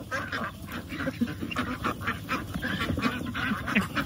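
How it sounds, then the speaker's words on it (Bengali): Ducks kept with chickens quack repeatedly and close by, a busy, overlapping run of nasal calls over a constant background of farmyard poultry. "হাঁস মুরগি সব"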